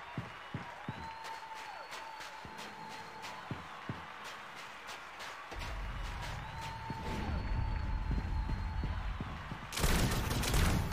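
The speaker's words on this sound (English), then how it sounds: "I play auto fire with shotgun" Shotgun auto fire in a Shadowgun Legends PvP duel: sharp repeated blasts, spaced then bunching, over tonal game music and effects that swell into a loud burst at the end.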